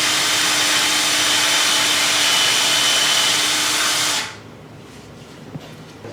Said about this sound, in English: we have to drill 1 hole. We got a 1/4 inch drill bit